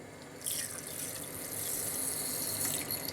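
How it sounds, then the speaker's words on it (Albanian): Water from a tap runs steadily into a glass as rice is rinsed for a squash and carrot soup, a continuous close hiss and splash with no talking. "në një gotë me ujë, do të hedhim orizin, do ta shplajmë disa herë"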